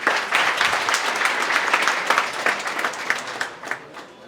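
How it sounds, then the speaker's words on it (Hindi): Loud, sustained applause from a large audience honouring a top-ranked student at a police selection celebration, dense steady clapping that swells and holds before easing slightly at the end. "पहले तो इस बच्चे के लिए जोरदार तालियां"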